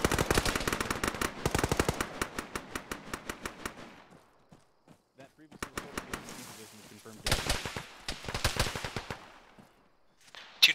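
Rapid bursts of automatic gunfire in the ArmA 3 video game, coming in long, loud strings of shots. A brief quieter lull with scattered single shots comes midway, then more sustained firing follows.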